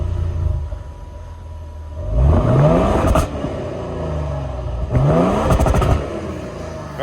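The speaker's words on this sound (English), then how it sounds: "Go start up and let's give them some exhaust note Okay. on this V6 without the hybrid option." A 2022 Toyota Tundra SR5 work truck with the non-hybrid V6 runs nearby, a low idling rumble rising twice into short throaty revs with a rasping exhaust note before settling back, no voices.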